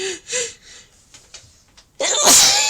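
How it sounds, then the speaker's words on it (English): A single loud, close sneeze bursts out abruptly near the end, following a few quiet breathy sniffs and gasps as it builds up. "Oh gosh, I'm going to sneeze."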